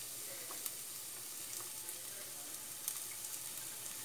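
Garlic cloves frying in a pan give a steady, soft crackling sizzle with occasional brief pops throughout, with no one talking.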